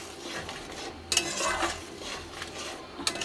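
Food cooks in a pan while a utensil stirs it, giving a run of close scraping, clattering strokes over a light frying sizzle. No one speaks.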